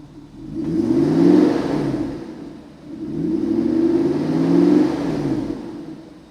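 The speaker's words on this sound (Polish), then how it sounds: "Ta V8 ryczy znakomicie." A Mercedes-Benz W124 with a V8 engine revs twice, each rev a deep, loud, rising and falling roar lasting a few seconds, with no voices.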